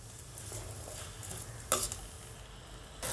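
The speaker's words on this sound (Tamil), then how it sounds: "அது கூடயே மஞ்சள் தூள் சேர்த்துட்டு நல்லா கலந்து விட்டுக்கலாம்" Onion and tomato with rock salt and turmeric being mixed in a pan, quiet low sizzling with scattered scraping stir strokes and a sharper clack partway through, no speech.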